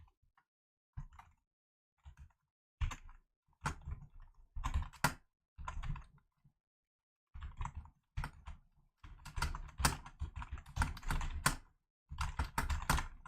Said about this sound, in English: I know you guys have to listen to me like clack, clack, clack, clack, clack, clack, clack when I start typing